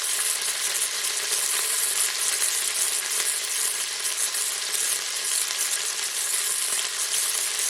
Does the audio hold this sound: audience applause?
no